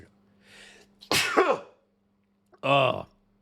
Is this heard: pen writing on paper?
no